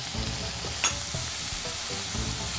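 Carrots and other vegetables stir-fry over medium heat in a pan, with a steady loud sizzle and occasional soft scrapes of the stirring utensil, close up with no voices.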